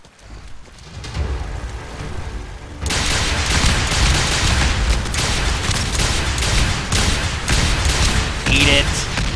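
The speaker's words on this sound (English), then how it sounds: "rocket launcher, do your thing" A rocket launcher fires in Fallout 4: Far Harbor, a loud sudden blast that gives way to a sustained roar of booming fire and explosions, with a voice briefly talking over it.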